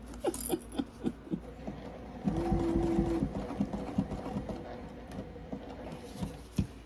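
A sewing machine stitches a seam in polyester with a 3 stitch length, irregular ticking needle patter with a steady hum during a short continuous run in the middle, stopping and starting.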